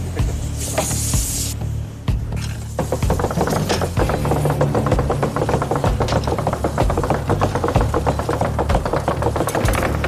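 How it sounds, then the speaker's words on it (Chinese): Cleaver chopping meat for meatballs in a busy competition kitchen, dense rapid blows repeating steadily and loudly after a brief pause near the start, with a constant low kitchen hum underneath. "我们在剁肉， 在 chop 那个 meatball 有吗？"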